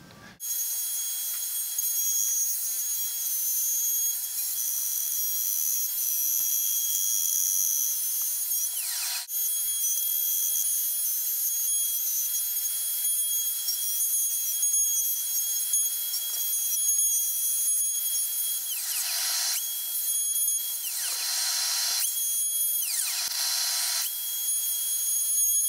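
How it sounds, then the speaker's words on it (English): A router cuts deep pickup cavities into a Les Paul guitar body with a 1-inch bit, a loud sustained high-pitched whine that dips briefly several times as the bit bites into the wood, with no talking. "I'll take my router now and I'll just route the pickups"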